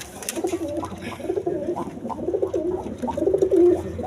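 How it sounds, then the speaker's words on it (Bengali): A pair of Sulli pigeons coo at a farm, with repeated low throaty coos that roll on steadily and close by, growing slightly louder toward the end, while no one speaks. "এইখানে এক পেয়ার সুল্লি কবুতর আছে"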